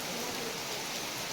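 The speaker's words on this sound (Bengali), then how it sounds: "সুন্দর সোনালি বৃষ্টি হচ্ছে।" Steady rain falls outdoors, a soft, even hiss of drops with no breaks and no voices.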